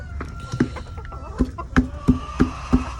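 Chickens clucking as they eat freshly dumped feed, a series of sharp, close clucks and pecking sounds at a fairly even rhythm, loud and without talking.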